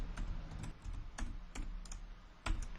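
Computer keyboard keys clack as code is typed, a quiet, uneven run of clicks and taps with small bursts and pauses, close by and with no voices.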